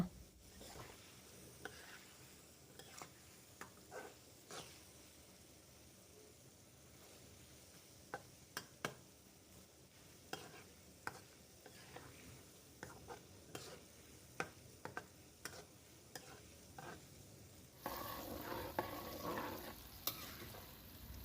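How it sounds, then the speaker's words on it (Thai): Battered Thai sour fish (pla som) frying in hot oil while a ladle stirs it, giving a steady sizzle with repeated light scrapes and clinks throughout and a louder, busier burst of frying near the end. "แต่ถ้าแป้งยังไม่เซตตัวเนี่ย เดี๋ยวเขาจะ หลุดออกจากปลาส้มนะคะ"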